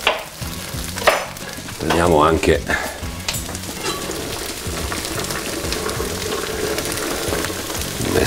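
Olive oil sizzles steadily in a pan while orecchiette with broccoli is being prepared, a continuous crackling fry with clattering stirring near the start and brief talk over it.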